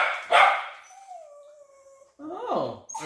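A shop dog in a motorcycle repair workshop gives a sharp bark, then a drawn-out whining howl, then another yelping outburst, all close and fairly loud.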